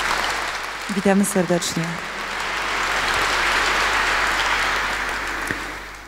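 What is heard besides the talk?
audience applause welcoming a guest at a charity concert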